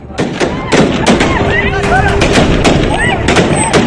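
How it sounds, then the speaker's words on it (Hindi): Gunfire crackles at the north gate of Kabul airport as American and German troops return fire after an attack, a loud close run of sharp bursts and thuds with voices shouting over it. "अमेरिका और जर्मनी के सैनिकों ने जवाबी फायरिंग की।"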